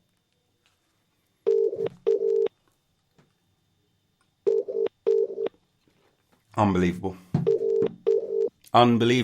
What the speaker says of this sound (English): It's just going to keep ringing.